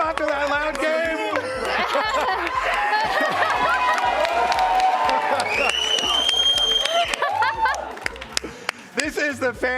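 Arena crowd at a League of Legends esports match cheering and applauding steadily and loudly, with whoops rising over a continuous roar as a commentator talks over it.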